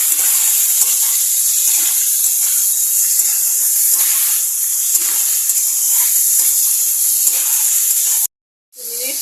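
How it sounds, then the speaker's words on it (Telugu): Chicken pieces frying with green chillies in a pan, sending up a loud, constant hiss and sizzle with occasional stirring scrapes, before a brief sudden drop to silence near the end. "పచ్చిమిర్చి ఫ్రై అయిన తర్వాత క్లీన్ చేసుకున్న చికెన్ వేసుకోవాలి. ఒక 2 మినిట్స్ ఫ్రై చేసుకోవాలి."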